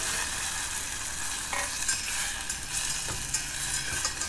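A fish seasoning mixture is stirred in hot oil, giving a continuous dense sizzle with occasional scraping strokes of the spoon, close and steady throughout.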